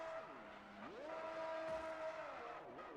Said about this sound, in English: Send off the LBL with those donuts